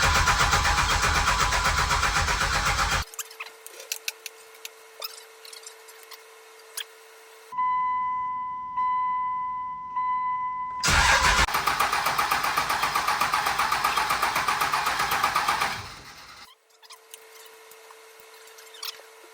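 Second-generation Cummins diesel engine being started, with loud cranking and engine noise broken by a quiet gap holding a steady tone, then another burst of engine sound, all close up.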